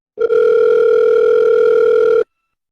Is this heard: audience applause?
no